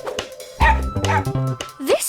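A cartoon dog gives a couple of short yipping barks followed by a rising whimper, close and clear, with voice-like tones mixed in.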